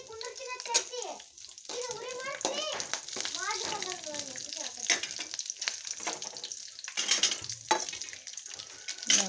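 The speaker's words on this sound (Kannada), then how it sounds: "ಮೆಣಸಿನ್ಕಾಯಿ ಹಾಕಿ ಎಣ್ಣೆ ಒಳಗೆ ಫ್ರೈ ಮಾಡ್ಕೊಂಡ್ರಿ." Green chillies frying in hot oil in a pan, with curry leaves and mint, giving a continuous close sizzle with stirring clatter while a voice and other chatter run over it.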